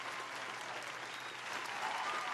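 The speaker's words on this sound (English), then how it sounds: "Round of applause for Sade being in the building." An audience applauds steadily, a dense wash of clapping that holds its level for the whole stretch and swells slightly near the end, fairly distant and without any voice over it.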